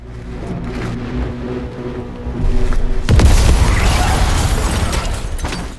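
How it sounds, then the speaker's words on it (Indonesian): A sudden heavy car bomb boom bursts out midway over a low mechanical rumble, then a sustained roar and debris-like crackle that slowly trails off. "ledakan itu belum selesai menggema"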